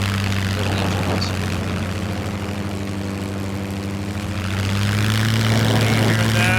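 A propeller airplane engine in the video game SCUM, a loud, continuous droning hum with steady tones that rise slightly in pitch toward the end as the engine revs.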